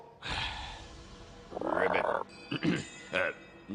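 Cartoon frog (Thor turned into a frog) croaking in a few loud, close, guttural bursts, the longest in the middle and shorter ones after, alongside breathy gasps.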